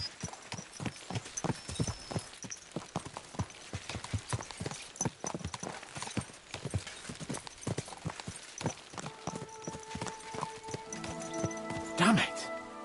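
Horses' hooves clip-clop in a fast, steady rhythm while riding in the video game Kingdom Come Deliverance 2, followed near the end by a brief burst of louder activity.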